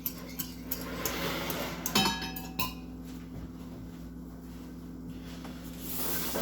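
Cup of milk being stirred into a bowl for ham, cheddar and pepper scones, with a utensil clinking against the bowl in a few light taps, then soft, steady swishing and scraping.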